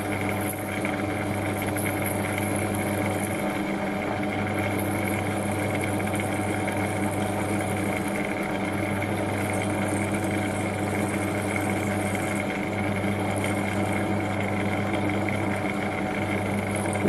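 An M35 cobalt drill bit from Drillpro bores into hard metal at the lowest speed in bottom gear, with coolant applied. A steady machine hum and a tonal whine run continuously, close and loud, with no speech.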